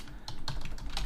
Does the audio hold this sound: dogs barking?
no